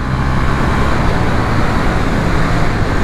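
A KTM 890 Duke R motorcycle on racing tires being ridden, a steady, loud, dense engine and road roar that holds even throughout with no clear breaks or downshift burbles standing out.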